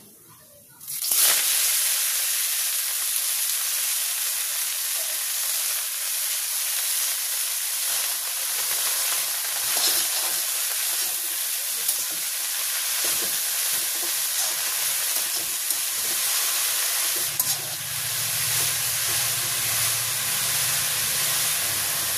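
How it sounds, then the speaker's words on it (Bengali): Red amaranth greens drop into hot oil in a village kitchen pan, a loud hiss that bursts in suddenly and settles into a steady, close sizzle and steaming wash with a few sloshing sounds. "তেল গরম হয়ে গেছে, আমি এখন লাল শাকটা দিয়ে দিচ্ছি।"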